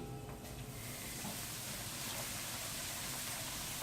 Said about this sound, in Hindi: सूजी को भूनूंगी थोड़ा सा। सूजी बहुत जल्दी भुन जाती है, चलाते रहिएगा